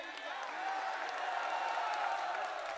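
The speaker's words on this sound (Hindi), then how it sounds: "ताली बजाकर, शोर मचाकर जय श्री राम" A devotional gathering's crowd at Bageshwar Dham claps and shouts in a sustained, fairly even roar, with some voices rising over the clapping.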